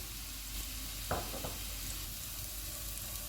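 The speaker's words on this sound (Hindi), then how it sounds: "इनको 30 सेकंड तक फ्राई करेंगे। चूल्हे को मैंने फुल रखा हुआ है।" Garlic and ginger fry on a gas stove at full flame for chicken BBQ rice, a steady dense sizzle with a few brief scraping stirs near the middle.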